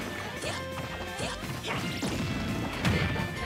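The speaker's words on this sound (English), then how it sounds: "Or finding the up smash." Up smash attack hits in Super Smash Bros, with Snake facing Zero Suit Samus, landing as a rapid series of sharp crashing impacts and whooshes over busy game sound, loudest toward the end.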